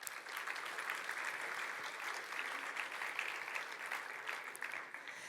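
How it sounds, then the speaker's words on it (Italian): Steady, full audience applause fills a hall at an Italian vocational training event, continuing as a dense even patter for several seconds without talk. "Fatevi davvero un grandissimo applauso."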